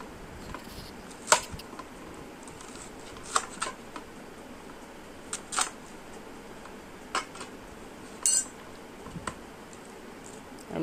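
A knife chops banana blossom into small pieces, sending out a string of sharp, irregular clicking cuts at close range over a quiet background, with no talking.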